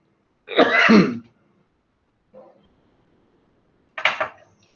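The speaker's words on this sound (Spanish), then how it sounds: "Me disculpa, por favor, que me dio tos." Two throaty coughs ring out close by, separated by a faint softer one, with quiet pauses between them.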